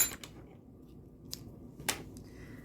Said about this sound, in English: I'm going to cut my working yarn